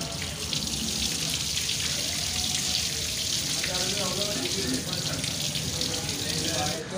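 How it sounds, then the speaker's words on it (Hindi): Water splashing and running steadily as fruit is rinsed by hand during large-batch preparation of a milk-based labbeshereen dessert, a continuous close wet hiss with faint clatter beneath. "तो इस तरह करके ऊपर हाथ मार के इनको वाश कर लेंगे"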